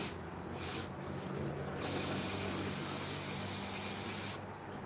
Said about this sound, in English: I sprayed it.